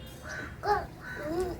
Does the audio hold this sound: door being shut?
no